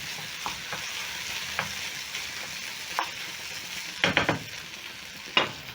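Sausages sizzling steadily in a frying pan, a continuous close crackle with occasional scraping stir and utensil clinks against the pan, no voices.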